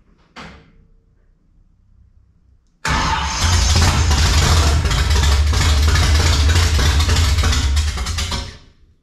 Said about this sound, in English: We're gonna see if we can get her to fire and then run a little bit, maybe idle and that sort of thing.